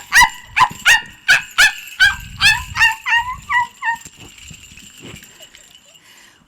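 Dogs bark in a rapid run of about a dozen loud, close yelps during a told story of a hunter's chained dogs, the barks growing softer and ending in quieter whimpers.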